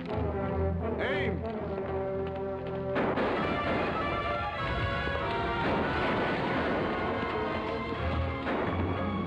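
A firing squad's rifle volley cracks out, a sharp blast followed by a long, heavy booming rumble within a dramatic musical score, loud and near.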